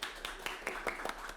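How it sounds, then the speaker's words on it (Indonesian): A small audience at a school talk session claps briefly, a handful of scattered, soft individual claps spaced irregularly over a quiet background. "Teman-teman boleh dong tepuk tangannya sekali lagi benar."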